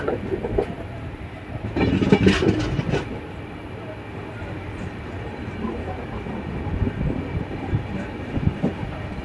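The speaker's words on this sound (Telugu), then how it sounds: "రామేశ్వరం తాంబరం సరికొత్త ట్రైన్ అండి ఇది" The new Rameswaram–Tambaram train at Mandapam railway station, with a close, loud rumble and rolling wheel clatter, a louder burst early on and then a steady run, people's voices mixed in.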